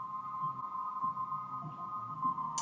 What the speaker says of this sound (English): Sounds like a submarine almost.